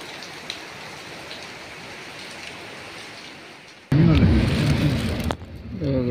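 Heavy rain pours steadily in Jeddah, a constant wash of noise, then a louder surge near the end as a voice speaks over it.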